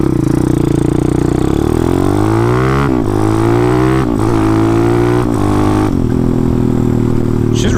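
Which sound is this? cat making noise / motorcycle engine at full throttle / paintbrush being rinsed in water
motorcycle engine at full throttle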